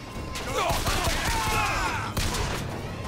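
An enemy in Bioshock Infinite fires at the player in rapid bursts that sound dense and close, going on for several seconds over a busy game background, with a voice speaking at times.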